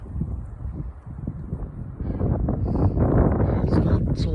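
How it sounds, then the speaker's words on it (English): Gusty wind buffets the microphone near a mountain summit on Hermits Peak, a steady low rumble that builds louder after the first couple of seconds and stays strong, with no voices. "It's still windy, but not as bad as down there."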